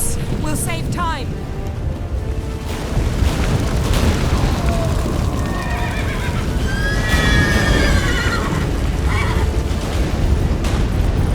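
A horse in The Witcher 3 neighs and whinnies repeatedly, loud and close, over a rumbling game soundscape with booming impacts and hoof clatter.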